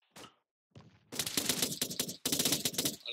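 Machine gun fire in the Arma 3 video game, a few isolated cracks at first, then sustained loud rapid bursts of automatic fire, close and dense, with a brief gap between two long strings.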